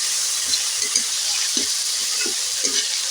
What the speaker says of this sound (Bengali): দিয়ে মশলা আমি ভাজতে থাকবো মশলাটা